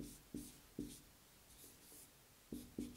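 Hand writing out a complex-number math derivation, a handful of short, faint scratching strokes in an uneven rhythm against a quiet room.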